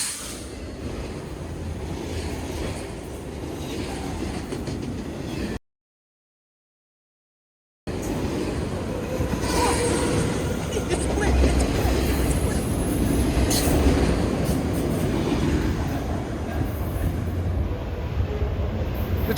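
A CN freight train with autoracks rolls past on the rails in a steady, continuous rumble with faint clatter and squeal, broken by a short dropout in the middle.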